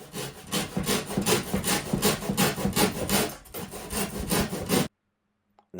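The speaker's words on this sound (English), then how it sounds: "I started out by cutting out with a multi-tool and then with a Japanese saw" Steady back-and-forth strokes of a Japanese hand saw cutting through a boarded-over loft hatch, a loud close rasping rhythm of wood sawing for about five seconds before stopping abruptly into silence.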